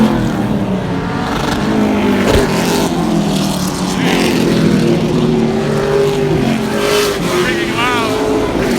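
Race cars at Evergreen Speedway roar loudly nearby, engines rising and falling as they pass, with crowd noise and voices mixed in.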